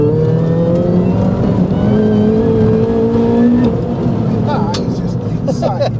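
Modified Mini R53 track car accelerating hard, its engine note rising steadily toward the red line, loud and close, with a voice talking over it before a brief easing near the end.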